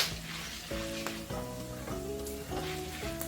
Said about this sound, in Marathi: कापूर चिनी नागकेशर दहा ग्रॅम हे साधारण एकसारखंच आहे त्यामुळे एकत्र तळतील